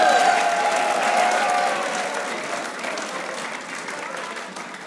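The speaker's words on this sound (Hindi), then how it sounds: "तालियां नहीं रुकनी चाहिए।" Studio audience applause on a cricket talk show, a dense burst of clapping that starts loud and gradually tapers off while a voice speaks over it.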